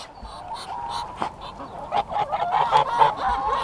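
A farm goose honks repeatedly on a cold morning, a series of nasal calls that grow louder and more frequent toward the end, heard close and clear.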